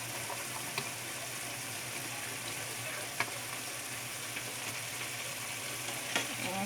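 Broccoli goes into a hot, steaming pan of bangus (milkfish) steak, giving a steady close sizzle and hiss with a few soft clicks of stirring.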